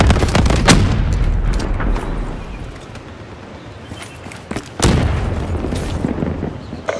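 Frag grenade explodes amid team deathmatch gunfire in Black Ops 3, sharp gunshots and booming blasts, with a heavy bang near the end over a rumbling battle background.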